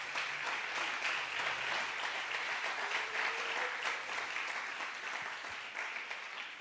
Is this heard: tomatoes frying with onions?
no